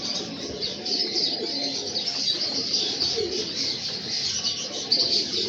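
Heera Lal breeder pigeons coo softly in a loft at night, with low, repeated throaty calls, faint chirps and a light bird-flutter under a steady background hiss.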